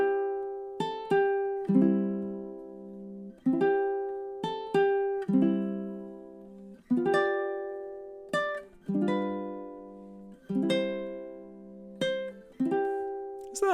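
A low-G ukulele plays an eight-bar phrase of "Silent Night" in plucked notes and strummed chords. The playing is close and clear at a gentle, steady waltz pace, with no voices.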